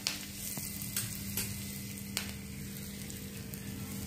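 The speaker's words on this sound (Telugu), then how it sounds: "ఈ ఆవాలు మనకి చిత్తపట అయ్యేంతకు మనం వేయించేద్దాం." Mustard seeds frying in hot oil on a stove for horse gram rasam, a steady close sizzle with sharp spluttering pops scattered throughout and no voices.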